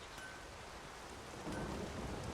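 A thunderstorm with lightning and rain in The Witcher 3 video game: steady, faint rain hiss with a low rumble that swells partway through, no voices.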